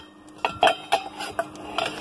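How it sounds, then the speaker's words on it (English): Plasticware and ceramic dishes, including a ceramic bowl, shifted around in an RV or camper van storage drawer, giving a quick series of light clinks and clatters close by, with no talking. "back here, I've got some plasticware and some ceramic dishes, like my ceramic bowl"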